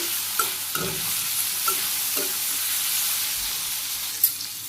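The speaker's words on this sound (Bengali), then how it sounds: "লবণ দিলাম ভালো করে কষে দিয়ে দিচ্ছি সুন্দর করে" Vegetables with green chilies and salt sautéing in a pan, a steady sizzle with intermittent scraping stirs, close and moderately loud, no talking.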